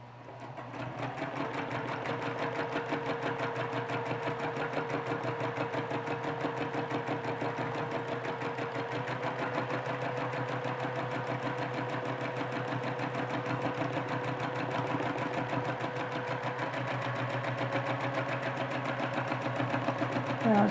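A sewing machine quilts a feather pattern, its motor and needle holding a steady, even whir that runs unbroken for a long stretch.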